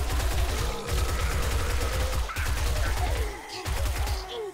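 Rapid bursts of gunfire aimed at zombies in the video game 7 Days to Die, dense automatic shooting with brief pauses, loud and continuous with clattering impacts.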